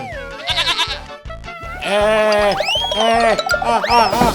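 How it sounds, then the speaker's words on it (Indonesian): A goat bleats loudly several times in quick succession, with wavering, drawn-out cries close by over a rhythmic musical backing. "Pauga, itu kan kambing."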